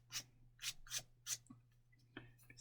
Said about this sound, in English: I'm going to quickly run the emery board over that to kind of smoothen it.